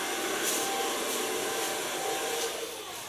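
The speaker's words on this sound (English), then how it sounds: "So far blow drying." A hair dryer blows on long, freshly colored hair with a loud, continuous whooshing drone that holds steady, alone, with no voices.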